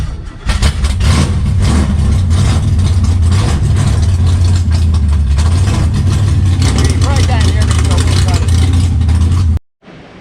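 A 1955 Pontiac's engine runs with a loud, steady, low rumble for nearly ten seconds, then cuts off abruptly just before the end.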